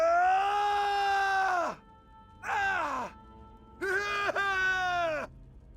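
Three drawn-out vocal groans or shouts from a male player character's voice option in Elder Scrolls Online, each a strained, sustained cry falling in pitch at the end, separated by short pauses and fairly quiet.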